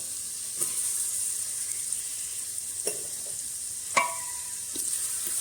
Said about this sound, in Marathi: पेस्ट चांगली परतून घेते मी त्याच्यानंतर आपण बारीक चिरलेला कांदा घालू